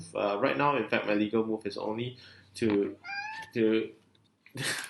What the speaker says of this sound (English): just now you heard a meow